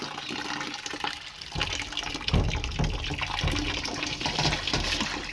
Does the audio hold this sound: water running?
yes